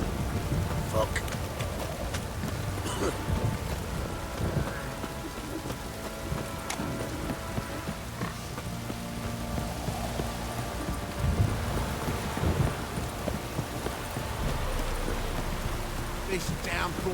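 Steady heavy rain patters and hisses throughout in The Witcher 3: Wild Hunt, with low rumbles of thunder beneath and a voice speaking now and then.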